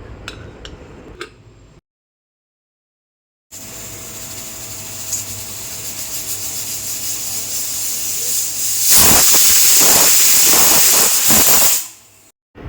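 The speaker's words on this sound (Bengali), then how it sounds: "এবার একটা প্রেশার কুকারের মধ্যে এই এঁচোড়ার আলুগুলো দিয়ে আমি ভালো করে সেদ্ধ করে নেবো" A pressure cooker boils jackfruit with potatoes: soft hissing and rattling after a silent gap, rising to a loud, sustained burst of escaping steam near the end before cutting off.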